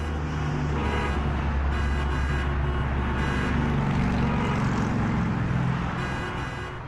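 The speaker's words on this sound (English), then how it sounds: "that traffic noise means it's time for our Around the Block segment" Dense road traffic rumbles continuously as a show segment sound effect, with engine drone and brief car horn toots layered over a loud, steady roar and no talking.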